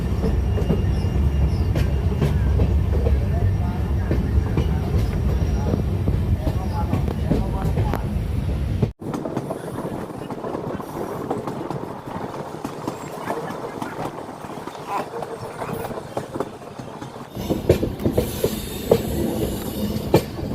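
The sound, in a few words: Sairang Express passenger train running on the rails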